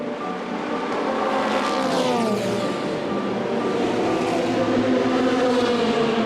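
Race cars at night during the Le Mans endurance race, a dense, continuous engine roar with layered passing whines and faint tire noise, steady and loud throughout with no talk.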